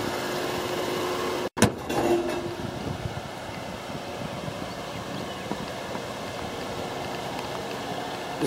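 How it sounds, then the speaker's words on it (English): A 2013 Chevrolet Impala police cruiser idles steadily with a low, continuous engine rumble, broken by a brief sharp dropout and thump early on, then a settled, even running tone throughout. "This vehicle started with the jump box attached. It's currently running."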